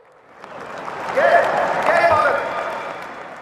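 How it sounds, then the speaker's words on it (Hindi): Audience at a Hindi political speech breaking into applause, a broad clapping wash that swells after half a second and holds steady and fairly loud, with crowd voices mixed in. "ठोको ताली"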